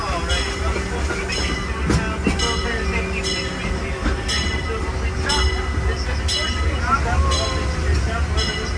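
The Disneyland Railroad train rumbles steadily along with rhythmic clacks and squeaks, while a recorded announcement voice speaks over the noise.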